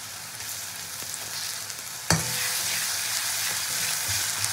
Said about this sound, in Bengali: এই যে রসুন বাটা দিয়ে নাড়াচাড়া করে দেবো আমি আদা বাটা।